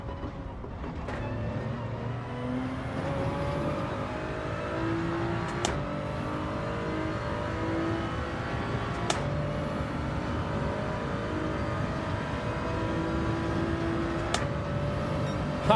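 A race car engine in Gran Turismo 7 runs at high revs, a steady loud drone with rising pitch sweeps and a few sharp gear-change breaks, continuous and close, no talking.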